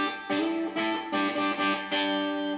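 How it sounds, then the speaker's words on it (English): Electric guitar run through a distortion effect, four or five sustained overdriven chords struck one after another, each ringing with a gritty, buzzing edge before the next strum. "I can hear a little bit more distortion in there."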